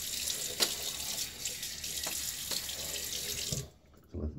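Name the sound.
water running from tap to add to shaving bowl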